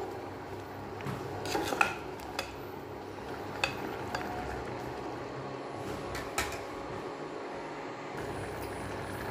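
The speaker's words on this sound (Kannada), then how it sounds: "ಈಗ ಕುದಿ ಬರ್ತಾ ಇದೆ" Coconut milk with mushrooms heating in a pot in a village kitchen, a low steady bubbling simmer with occasional clinks of a utensil against the pot.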